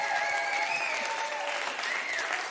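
An audience at a spiritual talk applauds steadily and loudly, with whistles and cheering gliding over the dense clapping throughout.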